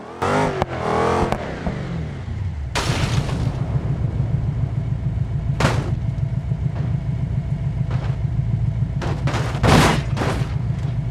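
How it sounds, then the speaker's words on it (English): Fireworks from a gimmick pad in BeamNG Drive crackle and pop in sharp bursts over a constant low engine rumble, with bangs scattered irregularly and a cluster of loud cracks near the end. "Fireworks."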